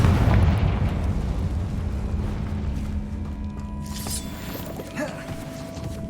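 A Confringo blasting spell detonates in Hogwarts Legacy, a deep rumbling explosion with a low roar that fades under lingering crackle and game ambience.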